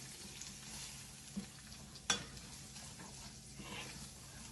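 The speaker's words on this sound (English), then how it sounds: "I'm going to add just a little bit of flour at the time." Flour cooking into a roux in a pan for shrimp and grits gives a faint, steady sizzle, with a sharp utensil clink near the middle and a softer knock just before it.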